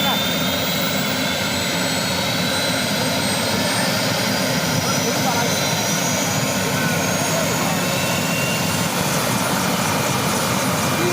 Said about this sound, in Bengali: এই তো হেলিকপ্টার স্টার্ট হইল।